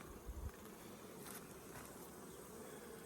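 Honey bees buzzing around an open hive during a queen cell harvest, a steady close insect drone filling the scene with no talking.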